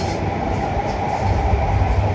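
A metro train rumbles past in a steady, loud roar of wheels and carriage noise that holds without a break, with no voices.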